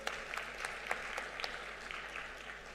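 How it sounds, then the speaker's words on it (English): Audience applause at an Africa manufacturing investment forum, a soft, distant, continuous patter of many hands with a few louder individual claps poking through, heard alone without talk. "Please clap for yourselves."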